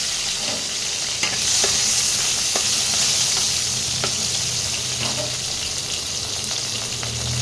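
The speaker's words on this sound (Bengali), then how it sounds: "যে মাছ ভাজার বাকি তেলটা ছিল সেই তেলটা আমি এর মধ্যে এবার দিয়ে দিলাম। এবার টমেটো একটা কুচি দিয়ে দিলাম।" Chopped tomato sizzles in leftover oil from frying fish, a steady close crackle with occasional stirring clinks and scrapes, continuous and fairly loud with no talking.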